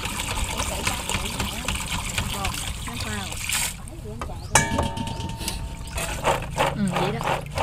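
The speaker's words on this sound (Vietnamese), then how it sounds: "Xả nước mạnh nha em." Strong tap water gushes and splashes over sea crabs being rinsed aboard a boat, loud and close, with bursts of splashing and voices talking over it.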